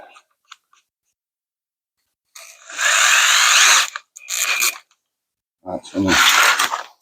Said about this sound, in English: I'm gonna get a pilot hole drilled.